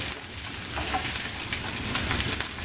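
Curry leaves, chillies, ginger and green chillies sizzle busily in a hot pan, a dense continuous crackle with faint stirring underneath and no talking.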